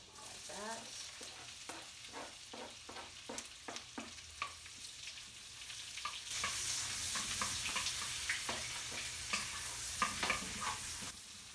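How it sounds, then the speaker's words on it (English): One medium onion, chopped fine, sizzles in a pan while it sautés, with a steady frying crackle and repeated scraping stirs of a utensil, close and moderately quiet. "you're going to saute your onions that you've chopped up"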